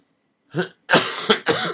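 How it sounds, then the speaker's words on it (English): Three sharp coughs in quick succession, close and fairly loud, the first one softer and the last two harsh and forceful. "Pardon me, I had a cough there."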